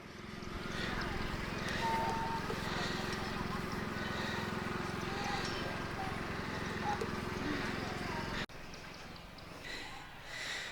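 Horse hooves clip-clop near a jousting field amid a busy Renaissance faire crowd, with voices chattering throughout and an occasional snort; the hoofbeats sit under steady background noise.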